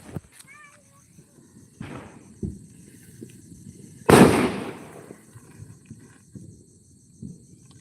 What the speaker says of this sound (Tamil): வாங்க பட்டாசு வெடிக்கலாம்